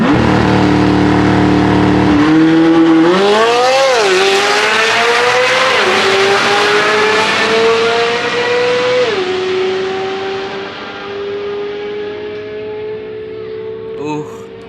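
A Corvette Z06 with an aftermarket exhaust and a Ferrari launch at a drag strip: a loud, close engine roar climbs through several quick gear shifts, then fades as the cars pull away.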